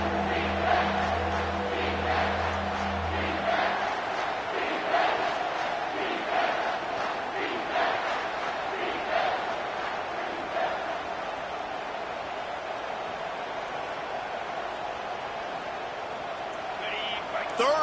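Loud stadium crowd roaring and yelling continuously on a third down at a college football game between LSU and Michigan, with a broadcaster's voice talking over it.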